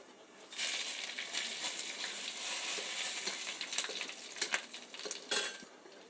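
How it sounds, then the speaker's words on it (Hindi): Cumin, red chili, fenugreek and bay leaf dropped into hot oil for Bihari kadhi sizzle in a steady close hiss, with scattered clinks and scrapes of a spoon stirring against the pan. "तेल गरम हो चुका है, अब इसमें कुछ स्पाइसेस ऐड करेंगे।"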